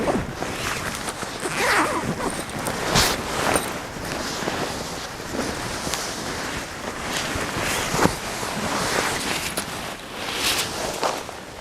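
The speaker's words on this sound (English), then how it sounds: "Unzip." A hammock sleeping bag zipper is unzipped outdoors, rasping in several short pulls over a steady wind-like background rustle, fairly close.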